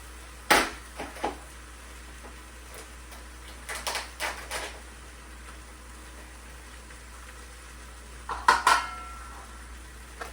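Dishes and cutlery clatter in a few separate bursts while being gathered for washing after cooking sweet potato and chocolate chili, with sharp clinks early, a quieter cluster in the middle and a louder rattle near the end.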